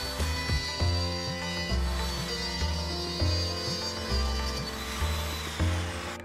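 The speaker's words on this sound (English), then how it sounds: "I have to keep the fence so that the router can ride along" A router cuts dados in MDF while riding along a fence, giving a loud, continuous close-up whine with a low rumbling drone and repeated small shifts in pitch.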